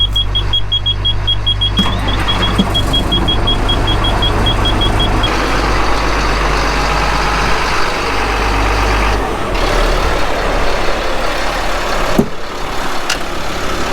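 A truck engine running after a jump start from another truck on high idle: loud, steady close engine drone with a brief beeping tone early on and a sharp clunk near the end, no talk.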